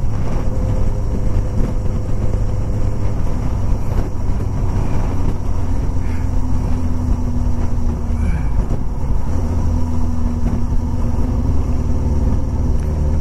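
A Kawasaki Ninja 600 supersport motorcycle cruising on a highway, its steady engine drone and heavy wind and road rumble filling the whole stretch without letup, loud and close.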